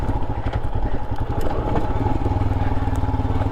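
A Royal Enfield Himalayan motorcycle rides over loose dirt terrain, its single-cylinder engine thumping in a loud, steady low pulse with rattling clatter from the rough ground, close to the rider.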